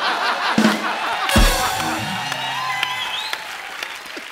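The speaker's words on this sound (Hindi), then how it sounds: "आपने तालियां मारी ना अभी" Studio audience applause on a Hindi comedy talk show set, a burst of clapping with some cheering swelling mid-clip and then continuing steadily, with faint musical tones underneath.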